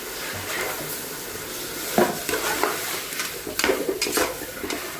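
Masala being stirred into chicken kulambu in a pot, with scraping spoon-on-metal strokes and soft sizzling, steady and close, with no talking.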